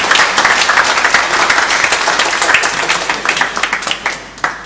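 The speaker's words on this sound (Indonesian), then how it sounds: "Mari kita tepuk tangan meriah untuk Kevin dan Iren." Wedding congregation applauding in a Catholic parish church in Pontianak, a dense, steady wash of many hands clapping at close range, sustained throughout with no talk over it.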